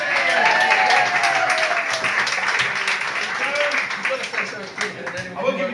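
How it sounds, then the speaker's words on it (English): Audience at a live stand-up comedy show in the dark applauds a woman in the back, a fairly loud run of dense clapping sustained throughout with some voices mixed in. "round of applause for you"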